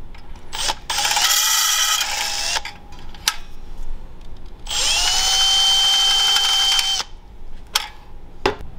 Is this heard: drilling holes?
yes